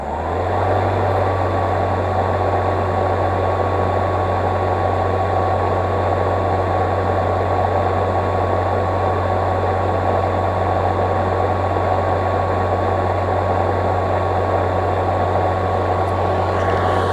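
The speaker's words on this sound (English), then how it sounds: "Mower number two is just slightly louder, but works just fine." A Snapper 60V battery lawn mower runs nearby, the second of two units and slightly louder, producing a loud, unbroken drone with a deep steady tone throughout.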